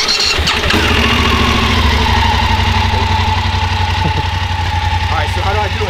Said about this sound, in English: I can rev it.